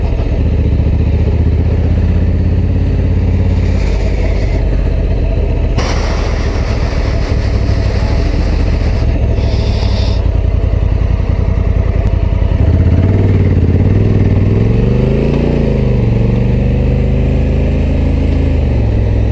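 A Honda Africa Twin Adventure Sports motorcycle engine drones loudly and steadily while riding, then the pitch drops and wavers as the rider downshifts, with close wind noise throughout.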